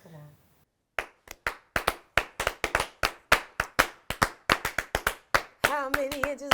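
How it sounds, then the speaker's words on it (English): Rhythmic hand clapping in a steady beat, sharp individual claps close by, with singing voices joining near the end. "we got to do the clap."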